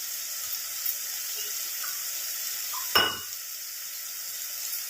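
Onion masala for a hotel-style small onion curry sizzles steadily in a pan after four spoons of curd go in, a soft continuous frying hiss broken by one sharp scrape or clatter near the middle.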